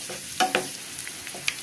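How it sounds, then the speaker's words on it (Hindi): Crushed garlic, green chilli and curry leaves sautéing in a pan, with a few sharp stirring scrapes over a low steady sizzle, fairly close and moderately quiet. "ये क्रश्ड लहसुन, हरी मिर्च और करी पत्ते, और इसको अच्छी तरह से हम सौते कर लेंगे"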